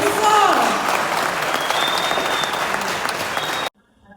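An indoor audience claps loudly and steadily for a few seconds at a public event in France or Congo, with a voice briefly calling out under the applause before it cuts off abruptly.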